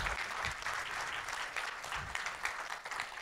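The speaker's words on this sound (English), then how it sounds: "Let's clap for him" A church congregation at a Sunday service applauds steadily, a continuous wash of many hands clapping at moderate distance with no talking.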